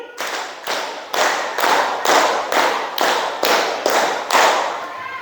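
Children clap a rhythmic pattern in unison, two quick groups of five sharp claps each, loud and close with brief pauses between groups.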